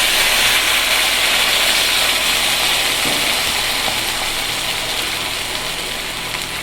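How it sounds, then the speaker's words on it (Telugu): Mustard and spice tempering crackling and sizzling in hot oil for drumstick leaf rasam, a loud, dense, steady hiss with scattered pops, fading slightly toward the end with no talking. "తాలింపు వేసేద్దామండి. కాస్త సౌండ్ ఎక్కువ ఉంటుంది"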